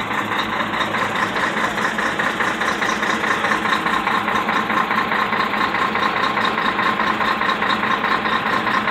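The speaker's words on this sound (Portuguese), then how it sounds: "ouve só o barulho dessa máquina aqui" A heavy machine's diesel engine idles slowly, a steady, close, continuous rumble with a faint rhythmic knock running through it for the whole stretch.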